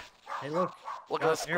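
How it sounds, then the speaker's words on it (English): A dog barks in a short burst of yips and bow-wows, close by and mixed in with someone talking over it. "Sorry for my dog barking."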